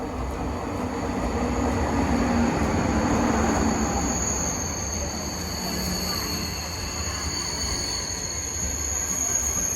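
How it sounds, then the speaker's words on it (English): A TGV high-speed train runs between Avignon and Marseille with a steady, loud roar of rolling wheels and rushing air, overlaid by a faint high whine, heard from inside the carriage throughout. "We went on this TGV train from Avignon to Marseille"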